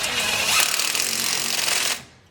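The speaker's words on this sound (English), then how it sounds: "It's just a little 1/4" home drill" A small 1/4-inch power drill with an attachment whirs steadily at close range for about two seconds, a dense buzzing grind that cuts off abruptly and leaves a brief, quiet tail.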